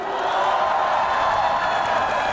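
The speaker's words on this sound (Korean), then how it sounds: "박수 한번 부탁드릴게요." Festival crowd at a music and beer festival applauding and cheering, a dense, steady wash of clapping and voices filling the whole stretch without pause.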